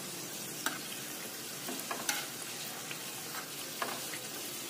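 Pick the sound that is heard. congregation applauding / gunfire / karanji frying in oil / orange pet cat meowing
karanji frying in oil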